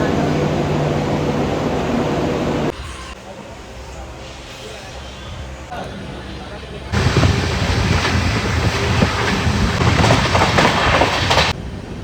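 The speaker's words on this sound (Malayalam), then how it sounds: "പോകണ ട്രെയിൻ ഇവിടെ നിർത്തിയിട്ടുണ്ട് ഗൈസ്." A passenger train stands at a railway station, giving a loud, steady rumble with heavy wind buffeting the microphone. The noise drops for a few seconds midway, then returns louder.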